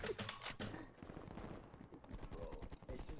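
Rapid automatic gunfire in Call of Duty Black Ops Cold War, dense bursts of shots rattling continuously throughout, loud and close.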